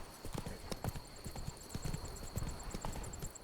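Horse hooves galloping in The Witcher 3, a steady run of sharp clip-clop strikes close by with faint ambient game sound underneath.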